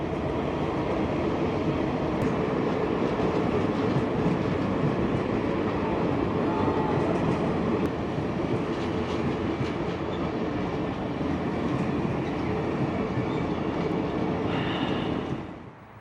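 A circus train passes close by near the outskirts of West Palm Beach, giving a steady loud rumble of rolling railcars with clattering wheels and faint squeals that fades slightly at the end.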